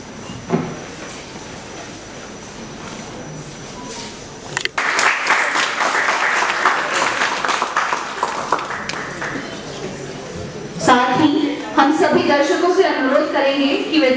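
At an academic lecture on dating the Ramayana and Mahabharata, an audience breaks into applause welcoming the guest to the stage, a burst of clapping lasting several seconds after quiet, followed by a voice speaking over the room.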